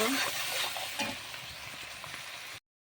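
Shrimp seasoned with turmeric and salt fry in hot oil with a steady, close crackling sizzle and some stirring, cutting off abruptly to silence near the end.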